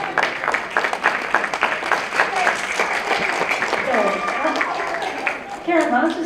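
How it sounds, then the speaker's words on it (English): Applause from an awards presentation audience at a 2016 congress crowd event rises steadily and stays at a full, even level for several seconds. "why don't you folks hold your applause"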